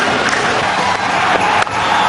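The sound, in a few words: cricket crowd cheering a boundary by Tendulkar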